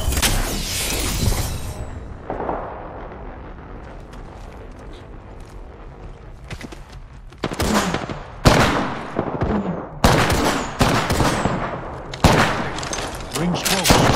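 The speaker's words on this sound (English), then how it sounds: "Getting shot at." Bursts of gunfire in the shooter game Apex Legends, with loud volleys at the start and repeated sharp rapid-fire clusters later, separated by quieter stretches of ambient game sound.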